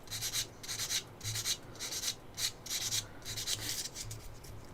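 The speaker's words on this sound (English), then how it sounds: "sanding sticks." Sanding sticks rubbed over a Tamiya plastic Churchill tank model kit part, a rhythmic series of short, scratchy back-and-forth strokes, close and fairly quiet, with brief pauses between passes.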